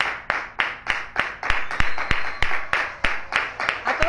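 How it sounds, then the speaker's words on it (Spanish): Applause at a memorial tribute for Luis Miguel Hernández "Agapito": a steady run of sharp, loud hand claps, roughly three per second, each with a short ringing tail, with voices murmuring underneath. "Agapito, un aplauso."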